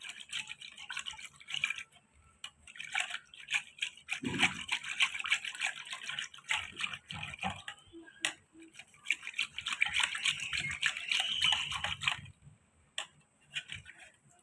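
A sweet milk drink, piyush, is churned by hand to raise bubbles, a soft steady swishing and clicking of liquid in a vessel that continues with brief pauses and no talk.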